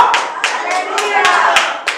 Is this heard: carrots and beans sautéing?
no